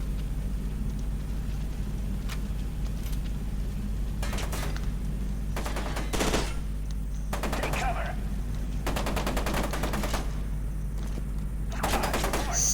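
Bursts of automatic gunfire from the first-person shooter F.E.A.R. 2: Project Origin come in several separate rattling volleys between quieter gaps, set over a steady low ambient hum and mechanical clatter, with no speech in the clip.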